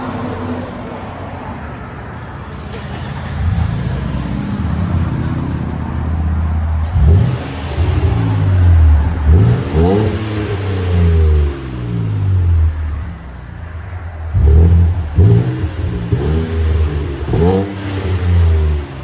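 A 2021-2026 Nissan Frontier 3.8L V6 pickup with a Borla exhaust idles with a deep exhaust rumble, then revs hard several times, each burst rising and falling, loud and close.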